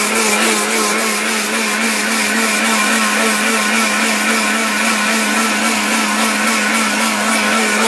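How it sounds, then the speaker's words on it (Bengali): A countertop blender grinds rice into powder at a steady, loud, continuous whir that holds unchanged from start to finish, with a brief spoken remark over the motor. "এরকম একটা ব্লেন্ডার যদি বাসায় থাকে তাহলে কিন্তু নিমিশেই আপনারা সবকিছু এই যে ব্লেন্ড করে কিন্তু খেতে পারবেন"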